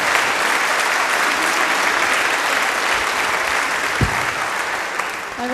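A large audience claps steadily at an alumni band concert, a dense continuous round of applause that fills the space, with faint crowd murmur underneath.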